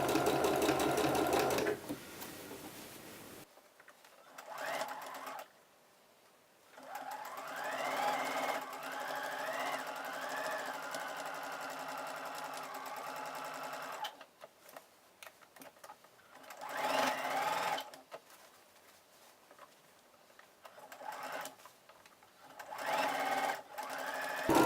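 A domestic sewing machine sews a reversible A-line dress in quiet bursts of stitching of varying length, some slower and some faster, separated by silent gaps while the fabric is repositioned.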